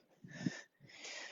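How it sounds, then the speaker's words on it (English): Two heavy, breathy exhales follow each other during a rest break in a Tabata HIIT workout, close to the microphone, each long and rasping with a slight wheeze. "You can hear me using my breath."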